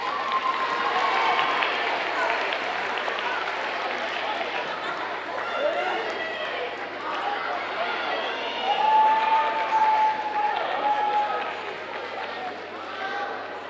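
An audience at a 7th grade awards ceremony cheers and applauds, a continuous wash of clapping and crowd noise with voices rising through it and someone speaking over the crowd.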